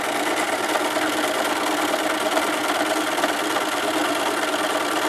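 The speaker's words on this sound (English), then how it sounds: "I'm just going to back stitch about 6 inches away from the edge" Sewing machine back stitching a scarf, running in a steady, continuous mechanical whir that stays close and fairly loud throughout with no pauses.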